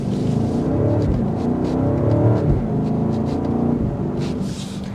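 A 2024 BMW X7 M60i SUV drives a curvy road, its engine a steady low rumble heard from inside the cabin. Faint ticking noises come and go over it, and no one speaks.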